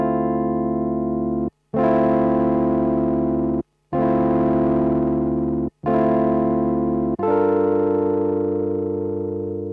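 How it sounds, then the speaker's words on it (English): A sampled Rhodes electric piano with overdrive from Sampleson Stage54 plays four sustained gritty chords, each ringing and slowly decaying before a brief silence and the next chord. "Just a bit of overdrive there, makes it nice and gritty"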